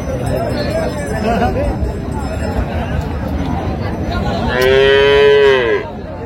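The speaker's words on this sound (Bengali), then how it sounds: "গাভী বাছুর।" A cow with her calf moos loudly once at a busy cattle market, a long drawn-out call rising over steady crowd chatter and nearby talk.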